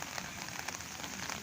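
Rain falls steadily in a hot city street, a dense even hiss of drops spattering on surfaces all around, fairly quiet and with no voices.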